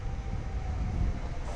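A SEPTA commuter train pulls into Croydon station under overhead wires, a steady, loud low rumble of rolling cars filling the scene without a break.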